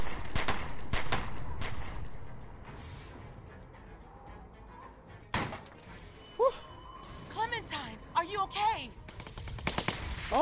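Automatic AK rifle fire bursts out in The Walking Dead video game, with sharp loud shots clustered early and again mid-clip, followed by chirpy game sound effects, while voices talk in the background.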